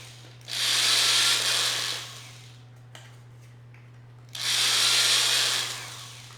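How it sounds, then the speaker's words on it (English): A power drill bores clearance holes in a Raspberry Pi enclosure in two bursts of about one and a half seconds each, a loud whirring grind with quieter pauses between and no talking. "I'll just run a drill through"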